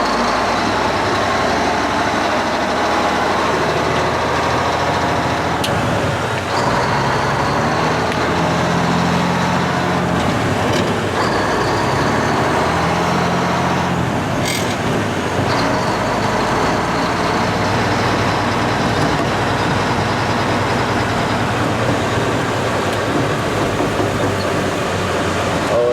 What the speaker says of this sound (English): time for test driving the old Mack.